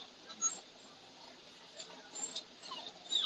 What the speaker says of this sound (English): That's the puppies there.